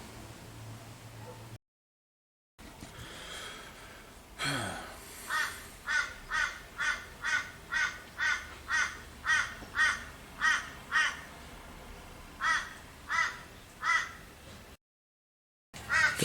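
Crows cawing outdoors in a steady run of about a dozen harsh, evenly spaced calls, fairly clear and moderately close, over faint background hiss, with a soft rustle beforehand.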